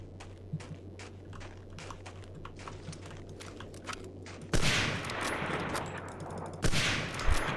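Rapid gunfire bursts from the World War II shooter Medal of Honor Allied Assault, with quieter clicking and scattered shots first, then two loud sustained volleys near the end, with no talking.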